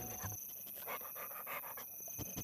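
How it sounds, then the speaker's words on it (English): A dog with a chew toy in an advertisement pants rapidly and audibly at close range, with rhythmic breathy huffs and some mouthing sounds throughout, and no talking. "and it's just a dog biting on a chew toy."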